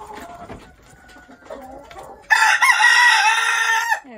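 A rooster named King crows on a farm ahead of a late winter storm, one loud sustained call rising and holding for over a second, preceded by quieter clucking and farm noise.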